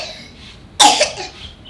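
A single sharp cough bursts out close by after a quiet moment, followed by a brief raspy tail.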